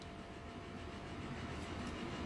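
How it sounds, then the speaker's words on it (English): A coal train in the video game Transport Fever rumbles steadily with a continuous low clatter of rolling wagons, fairly quiet and unbroken, with no voices over it. "Here is our wonderful coal train."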